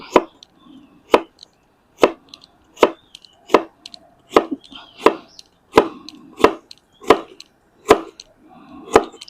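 A knife dices peeled carrot into cubes on a cutting board for shrimp fried rice, a steady series of about a dozen sharp, evenly spaced chops, close up with no talking.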